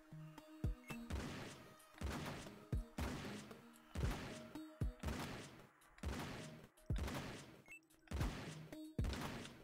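Dual-wielded shotguns firing in Spooky Station, about nine loud, evenly spaced blasts in a steady rhythm, each a sharp boom with a short decay, with little else around them.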